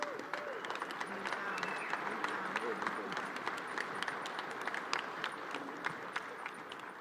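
Applause at a union congress, dense clapping from a large hall audience sustained steadily throughout, moderately loud with a crowd murmur beneath.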